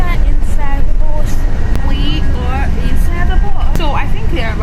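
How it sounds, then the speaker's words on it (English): Ride inside a moving city bus in Russia, with a loud, constant engine rumble and road roar filling the cabin while people talk throughout. "we are inside the bus"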